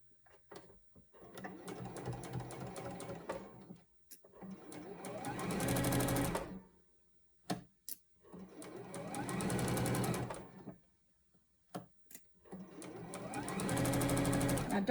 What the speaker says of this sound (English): ready to sew. We're sewing from the center out.